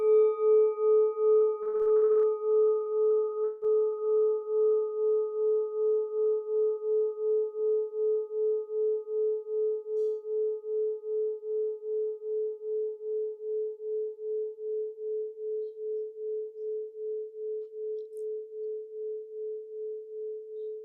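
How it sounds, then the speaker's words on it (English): Meditation singing bowl struck once, a pure sustained ring with a slow wavering pulse that fades gradually over about twenty seconds, with a brief faint rattle early on. "With every sound of the bowl, am I here?"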